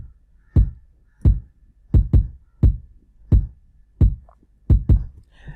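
Afro bongo beat built in FL Studio with swing set to 31, made of deep kick drums with bright tops that often land in quick pairs, in a loose, swung rhythm, loud and alone.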